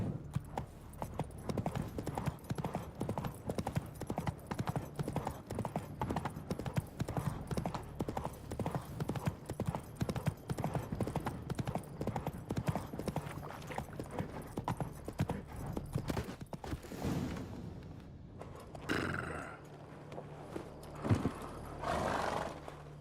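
Rhythmic clip-clop of the horse Roach galloping in The Witcher 3, hooves pounding steadily and close for most of the stretch, with a whinny and game ambience as the pace breaks near the end.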